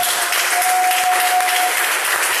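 Sustained applause from a church congregation at a Spanish-language Sunday school service, steady dense clapping filling the whole moment without a break, loud and close.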